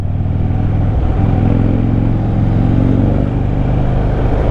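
A Harley-Davidson Fat Bob motorcycle engine drones steadily and close as it leans through curvy mountain roads in the Pauri valley, a continuous loud rumble with slight swells and no talk.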